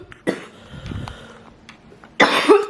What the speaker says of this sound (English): I just had like a cough attack.